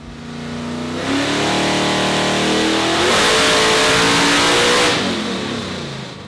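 The Australian Nightmare, a high-horsepower car engine running on VP Q16 fuel with a nitrous shot, screams through a loud dyno pull, its pitch climbing steadily as it revs harder and then easing off at the end.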